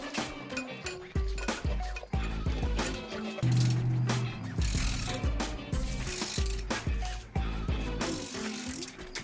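A ratchet snugging OEM-style head bolts on an LS 5.3 LM7 engine build, with rapid repeated clicking strokes and metallic clanks from the bolts and tools, close and loud throughout.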